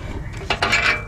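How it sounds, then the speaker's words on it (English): A metal wrench clinks against other hand tools as it is picked up during an exhaust repair on a Toyota Corolla, two short close rattling knocks in a quiet shop. "Let's grab our wrench."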